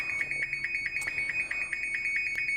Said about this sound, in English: 10 breaths per minute or 20 seconds with nothing, it will alarm, and it's designed to jolt and wake baby back into breathing